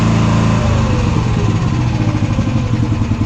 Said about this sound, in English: I hope you guys can hear what I'm saying when I'm saying it while the engine is operating